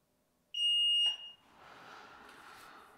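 Nedis Smartlife smoke detector on test, giving one loud piercing electronic alarm tone for about half a second that cuts off abruptly, followed by quiet room noise.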